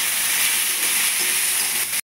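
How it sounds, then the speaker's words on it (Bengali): Onion and tomato frying in a pan for a Bengali cabbage dish with fish head, giving a loud, steady, close sizzle and hiss that runs unbroken for about two seconds and then stops abruptly. "এবার আমি একটা কেটে রাখা টমেটো দিয়ে দিচ্ছি, একটু দুটো হালকা ভেজে নেব।"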